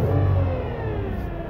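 A van with a 62TE transmission runs with a steady engine drone, and a faint whine from the transmission rides along it. The sound is continuous and close for a second and a half, with no talking.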